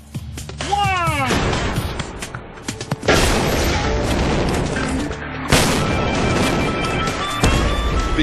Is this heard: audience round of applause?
no